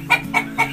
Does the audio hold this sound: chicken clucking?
yes